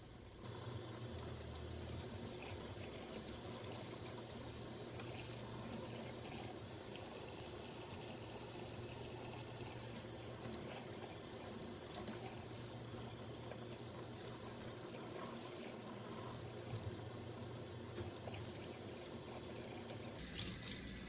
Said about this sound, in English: I'll sit back and let you enjoy the water sounds again for a few seconds